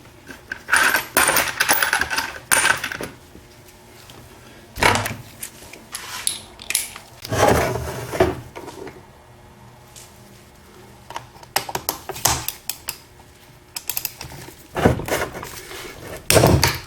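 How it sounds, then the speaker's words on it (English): Sharp metallic hammer blows shock loose the tight bolts on a Ford T5 five-speed gearbox from a Cosworth Sierra, struck in short bursts of close, loud knocks separated by brief pauses. "What I'll do is I'll just simply shock the bolts like this"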